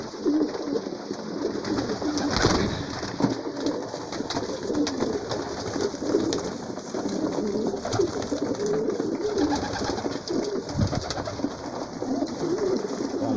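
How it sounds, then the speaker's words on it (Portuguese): Many pigeons coo continuously inside a pigeon loft, a dense overlapping chorus of low throaty calls with occasional wing flaps and rustling close by. "Pombal do Renato Sarzedo. Tá aí a pombada aí, gente."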